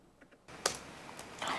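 A single key press on a computer keyboard, the F5 refresh key, gives a sharp click, followed by a few lighter keyboard taps nearby with no talking.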